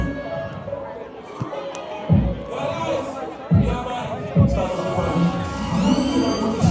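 Stadium crowd at a Lynk Cup semi-final second-leg football match between Portmore United and Harbour View, a broad distant roar with swelling bursts and low thumping, under a commentator talking.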